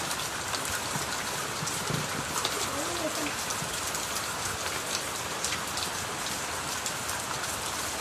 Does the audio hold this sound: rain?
yes